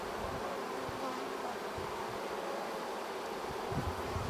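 Honeybees in an open hive hum in a dense, steady, faint buzz, unbroken, with no talk.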